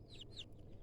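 Pet chickens cluck quietly nearby, two short rising calls in quick succession over a low background hum.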